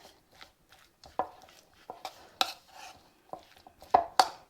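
Mayonnaise being mixed into a topping in a bowl, heard as irregular soft knocks and scrapes of a utensil against the bowl, close by, with quiet gaps between strokes.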